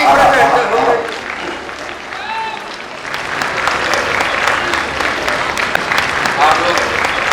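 An audience claps steadily at an Independence Day celebration event in Meerut, loud and sustained over several seconds, with scattered voices and speech in the crowd.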